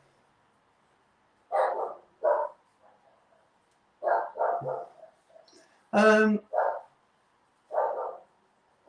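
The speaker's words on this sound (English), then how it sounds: "Sorry about the dogs barking." Dogs bark in several separated bursts over about nine seconds, one bark louder and harsher than the rest, with a brief spoken word among them.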